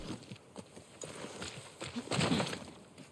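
Horse hooves clip-clop at a walking pace in The Last of Us Part 2 Remastered, a rhythmic series of soft thuds over ambient game background, fairly quiet and without talk.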